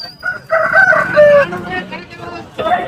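A native rooster crows loudly and close at a livestock market, one long cock-a-doodle-doo, followed by the start of another call.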